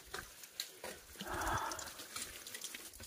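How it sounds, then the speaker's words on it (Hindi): Water trickling and dripping in a jungle as it is gathered in a folded leaf, a close, uneven splashing trickle that swells briefly midway, with no talk over it. "अगर कम कम पानी आ रहा है तो आप इस तरह से पत्ते को फोल्ड करके और इस तरह पानी इकट्ठा कर सकते हैं"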